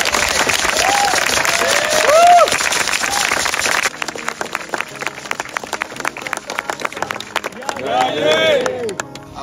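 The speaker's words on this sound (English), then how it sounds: "A round of applause." A family gathering in Greece breaks into a round of applause. Voices and murmurs fill the first few seconds, then steady close clapping from a small group follows, with chatter rising again near the end.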